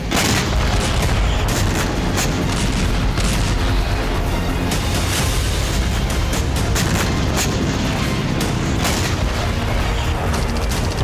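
Bombardment of Ukrainian cities in wartime, heard as a dense, continuous roar of heavy booms and rumbling blasts, loud and close throughout, with no voices.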